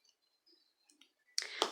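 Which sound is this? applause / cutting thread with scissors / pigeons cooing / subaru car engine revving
cutting thread with scissors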